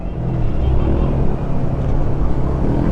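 A Bristol Assassin R400 motorcycle cruising at about 40 with the engine held around 4,000 to 6,000 rpm, giving a loud, continuous low rumble mixed with wind roar and no break over the whole stretch.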